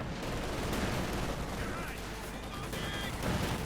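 Gunfire crackles continuously through a Company of Heroes 2 battle, dense bursts and explosions layered over one another, loud and unbroken across the whole span, with a faint voice mixed in.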